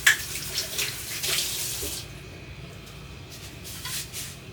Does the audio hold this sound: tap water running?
yes